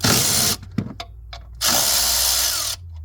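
Power tool whirring on the water pump bolts of a 2009 Ford F150, in two loud sustained bursts separated by a short quieter stretch of clicks and knocks, close up with no talking.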